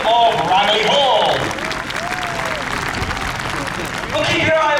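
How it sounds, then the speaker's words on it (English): An air festival crowd at Ragley Hall applauds the Red Arrows pilots. A continuous wash of clapping runs through the whole stretch under a loud public-address announcer's voice, which talks at the start and end. "Let's give a massive round of applause to Synchro and Red 8 for a wonderful heart over the skies of Ragley Hall."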